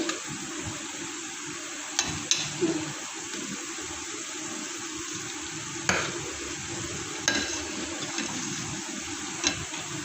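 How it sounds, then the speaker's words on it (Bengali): Mutton and chicken sautéing together in a pot with oil, a steady close sizzle and sputter broken by occasional sharp clinks of a spoon against the pot. "আমি ভালোভাবে মাখিয়ে কষাতে দিলাম"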